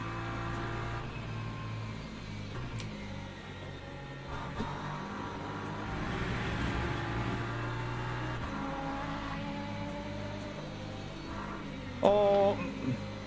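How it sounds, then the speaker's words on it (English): Engine drone from LMP2 prototype race cars in the Le Mans Ultimate racing game, ELMS series, as a steady sustained roar with rising and falling pitch as cars pass, and a sharper rev burst near the end. "here come the LMP2s"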